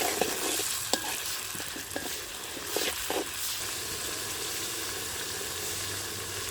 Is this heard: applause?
no